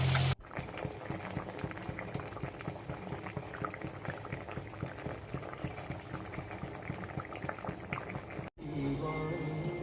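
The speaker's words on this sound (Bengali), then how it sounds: "এখানে এখন মাছ ভাজা হচ্ছে।" Fish frying in a pan of oil gives a dense, steady bubbling sizzle for several seconds, loud and close, ending in an abrupt cut.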